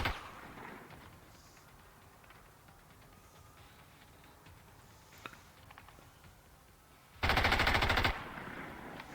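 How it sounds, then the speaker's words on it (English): Gunfire in the XCOM 2: War of the Chosen video game: one loud burst of rapid shots lasting about a second, cutting in sharply over a quiet game background. "They're going to start shooting at the poison guy."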